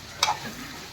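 Chicken curry frying in a pan, with a short, sharp sizzle burst as ingredients hit the hot oil, settling into a low, steady frying hiss. Nearby and fairly quiet, with no talking.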